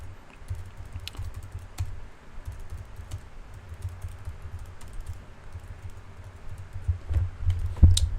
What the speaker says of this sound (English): So let me type this out real quick one more time.